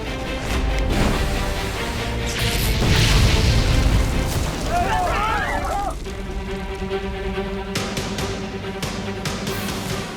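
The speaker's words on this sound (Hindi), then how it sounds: "सिर्फ सीट्स और लगेज के जलने के कारण ये इतना जोर का धमाका कैसे हो रहा है?" A burning train with seats and luggage on fire gives off a loud rumbling explosion that swells and roars for several seconds, followed by crackling, popping and a whistling crackle, with steady background noise after.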